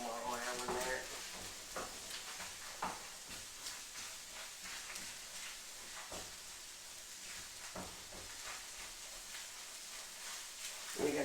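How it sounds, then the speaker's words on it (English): Scrambled eggs frying in oil in a pan, a soft, steady sizzle with faint scraping and stirring taps, quiet and close throughout. "You're gonna cook your eggs."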